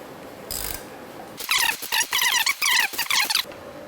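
A socket ratchet drives bolts into the base of a Kuka robot, giving a close, loud run of rapid clicking bursts after a brief knock.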